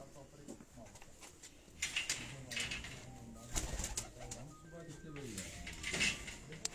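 Pigeons coo softly on a rooftop loft, low throaty calls repeating under a voice, with faint wing flutters and scattered background noise.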